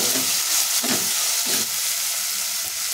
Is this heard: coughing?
no